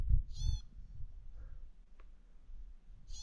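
Two birds call outdoors at Fording River Pass on a quiet morning, each giving a few clear, close calls spaced apart, with some low rustling and wind between them.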